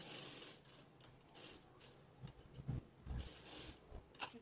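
A sewing machine stitching around the neck of a blouse, faint mechanical whirring and clicking in short uneven runs with no one talking.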